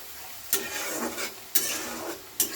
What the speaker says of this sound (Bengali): এখন এটা নাড়ছি আমি বারবার ধরে, কিন্তু হ্যাঁ, পেঁয়াজ আর রসুন প্রায় লাল হয়েই গেছে